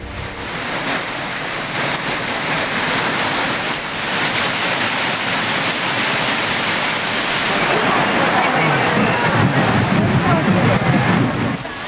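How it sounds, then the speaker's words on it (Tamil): The Courtallam waterfalls, flooded after heavy rain, give off a loud, steady roar of rushing water that fills the whole stretch without letup, with a voice speaking over it. "கனமழை எதிரொலியாக குற்றால அருவிகளில் வெள்ளப்பெருக்கு."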